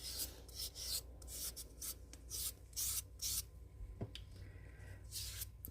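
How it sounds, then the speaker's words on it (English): Someone sands the edges of a cast resin egg by hand in short, raspy, rhythmic strokes, close and fairly quiet with brief pauses between passes. "I'm going to sand it really quick."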